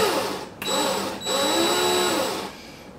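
A drill spins to twist wire hooked around a swivel for a Razorback vape coil build. Its steady motor whine runs in short starts, stops briefly twice, then holds for about two seconds before cutting off.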